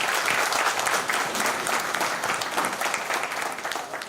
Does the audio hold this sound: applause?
yes